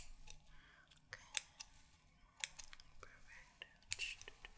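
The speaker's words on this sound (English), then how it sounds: "I have some scissors here. I was hoping I could just snip those." Small scissors snipping stray facial hairs in a quiet ASMR setting, giving several sharp, close metallic clicks spaced irregularly over soft background hush.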